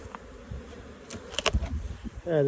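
Honey bees hum softly around a hive box in an almond orchard during pollination season, a low steady buzz with a few nearer passes and some handling noise toward the end, with no talking.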